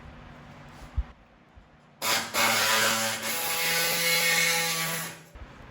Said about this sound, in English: I'm going to commence the sawing.